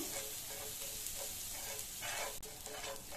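Mutton stirred with ginger garlic paste in a pan over a low flame, a soft sizzle under repeated scraping strokes of the spoon.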